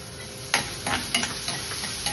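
Chopped onion sautéing in an oiled pan, a soft steady sizzle broken by several sharp scraping stir strokes, close up.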